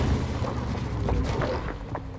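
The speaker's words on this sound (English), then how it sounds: "I'm hearing explosions." Explosions in the Fortnite video game, a dense low rumbling of booms and blasts running continuously through the short stretch, loud and steady.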